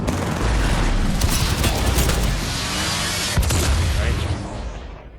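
Dense rapid gunfire from the video game Apex Legends, a sustained loud burst of overlapping shots lasting several seconds before tapering off.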